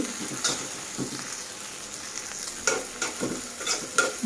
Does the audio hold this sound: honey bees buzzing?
no